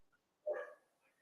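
A single short, fairly loud dog bark rings out alone against near silence, clear and a little distant, during a quiet moment at an online talk on migration.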